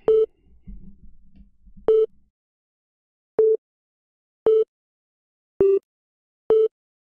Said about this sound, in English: Yeah, it's making another phone call.